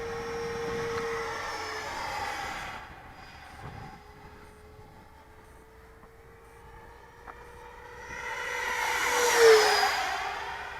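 Freewing F22 RC jet with an electric ducted fan — a Turnigy SK3 1500kv motor spinning a 12-blade Changesun fan on 8S 5200 power — whines past, loud early, fading in the middle, then swelling to a close, rising-pitched pass near the end.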